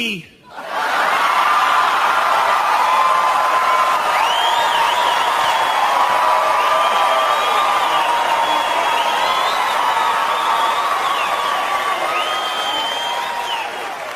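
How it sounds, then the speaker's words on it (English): A stand-up comedy club audience bursts into loud, sustained clapping mixed with laughter, whoops and cheers, a dense crowd roar that holds steady for the whole stretch before easing slightly at the end. "you guys are clapping and you're laughing because you know"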